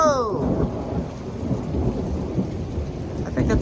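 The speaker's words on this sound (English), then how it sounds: "I think that's the loudest rumble of thunder today." A deep rumble of thunder rolls on loudly through a steady rain during a severe thunderstorm, with no one talking.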